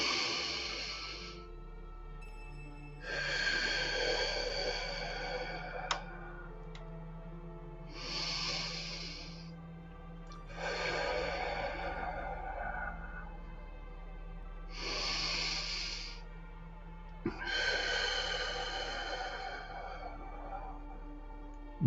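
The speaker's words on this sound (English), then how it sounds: "Let's take 3 nice deep breaths in through our nose, exhaling through our mouth." Several slow, deep breaths in through the nose and out through the mouth during a sunset meditation session, each long airy breath separated by pauses, over a faint low sustained hum.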